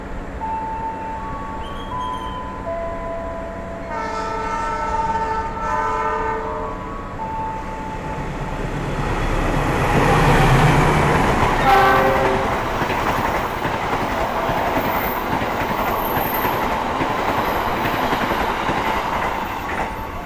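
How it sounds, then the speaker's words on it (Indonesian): A train horn sounds in long harmonic blasts, then the Harina passenger train from Bandung to Surabaya Pasar Turi roars past at close range in Indonesia with rushing rail noise and clatter, staying loud to the end. "Yang akan segera melintas langsung adalah kereta api Harina dari Bandung tujuan Surabaya Pasar Turi"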